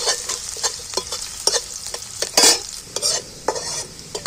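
Two spoons of chopped garlic fry in hot oil as a spatula turns them, producing a quick, rhythmic run of close scraping strokes about twice a second over a bright sizzle.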